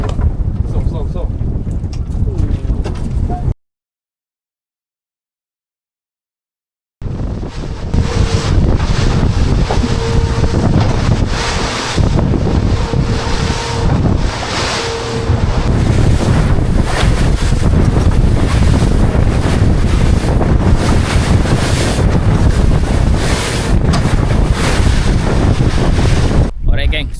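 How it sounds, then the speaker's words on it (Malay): Strong wind buffeting a fishing boat at sea, loud roaring gusts against the microphone with sloshing waves, continuous apart from a brief cut to silence, with faint voices mixed in. "Angin hari ni kuat gila."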